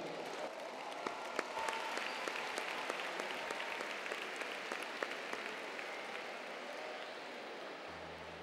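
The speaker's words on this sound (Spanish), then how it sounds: "Os pido un aplauso para Conchita." A large audience at a university graduation ceremony applauds steadily, a dense, sustained wash of clapping heard at a distance and fairly faint throughout.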